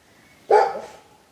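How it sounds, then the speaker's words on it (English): A dog gives a single loud, sharp bark close by, cutting abruptly through near silence and trailing off quickly. "those are my dogs"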